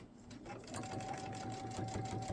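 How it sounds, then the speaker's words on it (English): A sewing machine runs a steady half-inch seam down a fabric edge, a close, quiet, even motor hum with rhythmic needle ticking that starts softly and settles into a continuous stitch. "we're going to sew 1/2 of an inch all the way down this edge"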